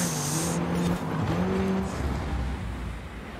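A 1974 Honda Civic RS driving fast downhill, engine droning steadily with rising and falling tonal whine and broad road and wind noise, close and loud throughout without talk.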